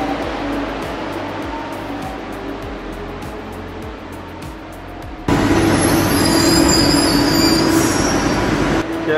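Kuala Lumpur airport express train running at about 150 km/h, a steady loud rumble of wheels on rail with a sharp jump in noise and a high squeal partway through, heard from inside the carriage with no talk.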